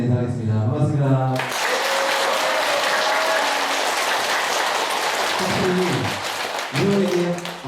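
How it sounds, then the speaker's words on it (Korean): A lecture audience at a center in Cheonan breaks into loud, dense clapping that lasts several seconds, with a voice speaking just before it begins and again as it fades. "박수가 터지네요"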